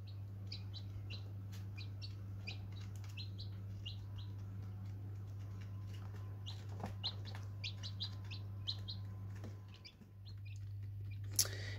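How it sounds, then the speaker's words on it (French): Chicks and quail chicks in a nursery brooder chirp in quick, high, scattered peeps throughout, fairly faint over a constant low hum. "c'était l'arrivée en nurserie, quand il y avait les 6 caïtos et un seul poussin"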